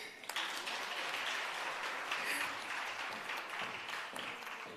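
Steady applause from a workshop crowd in Bloemfontein fills the whole stretch, a continuous even patter of many hands clapping at moderate loudness with no voices over it.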